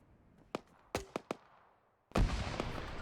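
Gunfire in a military training game: a few sharp separate shots at a distance, then a loud, dense burst of sustained fire rolling in close near the end.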